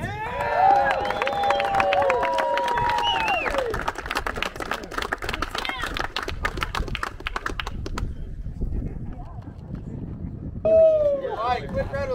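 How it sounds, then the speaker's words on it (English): Crowd applause and cheering for competitors at a tactical games event at a range complex, with scattered clapping and whoops, and talk heard over it. "quick round of applause for all you guys"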